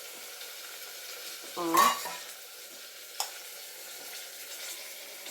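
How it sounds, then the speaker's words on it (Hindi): Garlic frying in hot tempering oil gives a soft, steady sizzle throughout, with a brief louder swirl of stirring and a single light utensil tap. A voice speaks briefly. "तड़के में ही इसको हम डाल लेंगे, तो ये भी साथ में भुना जाएगा थोड़ा।"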